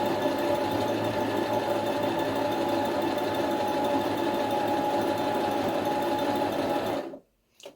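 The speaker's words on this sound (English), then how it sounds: "I've got my sewing machine set to the middle size zigzag" A sewing machine runs a medium zigzag stitch along a dress hem steadily and continuously at a fast rhythmic pace, close up, then stops abruptly near the end.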